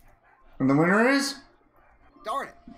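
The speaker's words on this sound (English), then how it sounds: "I hear a dog." A pet dog barks in a drawn-out, whining yelp lasting about a second, followed by a shorter bark a moment later, both heard beneath a person talking nearby.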